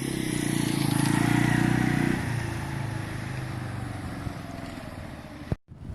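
A Benelli Keeway 125cc motorcycle engine, freshly serviced with a cleaned carburettor, idles steadily up close, louder at first and then settling to a lower, even putter before a brief clunk and cutoff near the end.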